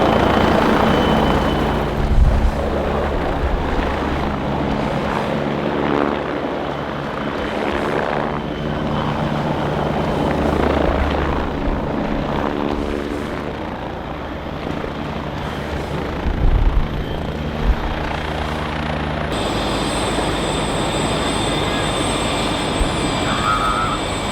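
A helicopter arrives, its rotor and engine making a loud, steady thrum that dominates the scene for over twenty seconds, with a few louder bursts of buffeting as it comes in.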